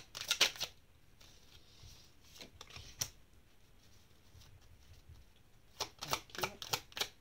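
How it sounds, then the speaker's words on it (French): Tarot cards drawn and handled during a reading, giving a few quick papery flicks and shuffles at the start, a single snap near the middle, and a closing run of rapid crisp card slaps, all close by with no talking. "Alors, on tire les cartes."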